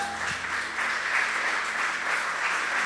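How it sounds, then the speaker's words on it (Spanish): A church congregation breaks into dense, continuous applause, a full wash of clapping that stays level throughout with faint voices mixed in. "Dale un fuerte aplauso al Señor"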